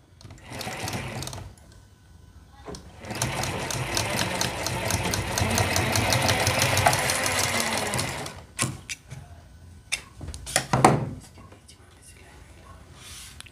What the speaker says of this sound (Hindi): अब हम एक पट्टी लेंगे और अपने सेंटर में इस तरीके से रख लेंगे और इसके ऊपर सिलाई लगाएंगे